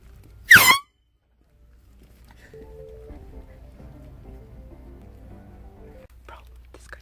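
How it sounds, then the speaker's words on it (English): One short, very loud air horn blast goes off during a prank at a toilet paper fort. Near silence follows, then soft whispered voices. "we're just waiting for people to come on by to get them with the air horn"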